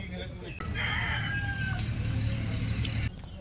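A rooster crows once in a Nepali Terai village, a fairly loud, drawn-out call lasting a couple of seconds, with faint rustling in the background.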